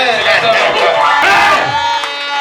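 A church congregation shouts and cheers in acclaim together, a loud, dense mass of raised voices sustained for a couple of seconds.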